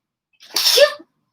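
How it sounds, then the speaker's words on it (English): A single sharp human sneeze with a brief breathy intake, then a loud burst lasting about half a second, close to the microphone, with no talk around it. "I sneezed."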